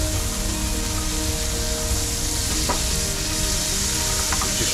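Razor fish coated in flour fry in hot oil with a dense, steady, loud sizzle that runs throughout, with a couple of faint clinks over it.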